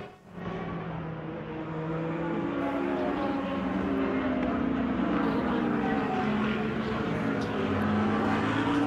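Classic race cars at the Daytona Classic 24 roar past on the circuit, a sustained, rising engine drone building from quiet to a loud, continuous blare that holds to the end.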